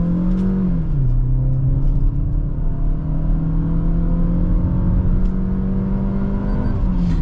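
A Suzuki Grand Vitara automatic's engine pulls steadily under throttle, a loud continuous drone with rising and settling pitch, close up and without talk.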